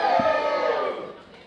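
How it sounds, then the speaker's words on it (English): A comedy and burlesque show audience lets out a short burst of cheering and whooping that fades quickly, with a brief voice at the start. "Give me a cheer if you saw me on Britain's Got Talent."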